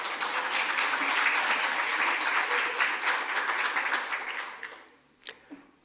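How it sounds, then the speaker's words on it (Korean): A hall audience applauds at the opening of an international symposium at the National Assembly, a broad wash of clapping that fades out near the end, followed by a couple of faint knocks. "박수로 시작하겠습니다"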